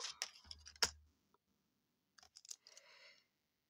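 Scissors snip through scrapbooking paper in a few sharp, close clicks and short crisp cuts separated by near silence, quiet and alone, on a craft table.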